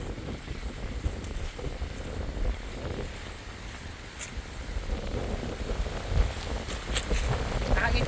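Steady wind buffeting a microphone over an irrigated ricefield along a river in Dagohoy, Bohol, Philippines, a constant low rumble and roar with gusty swells, fairly loud, with no clear speech.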